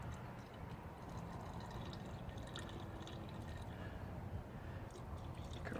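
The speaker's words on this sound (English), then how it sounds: "I'm just going to carefully pour water in each cell." Water poured carefully from a container into the cells of an RV battery, a soft continuous trickle and gurgle heard close up with steady background noise and no talking.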